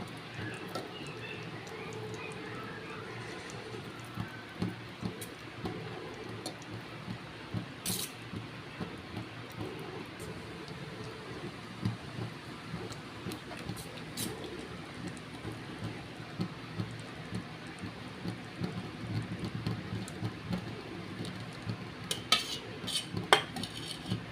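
Cooked rice being spooned and layered over vegetable gravy in a pot for veg biryani, with scattered soft scrapes and light utensil clinks over a steady background hum, no talk.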